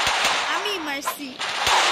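Video game gunfire pops off in a quick burst of sharp, close shots over a constant electronic background, with brief voice-like tonal sounds mixed in.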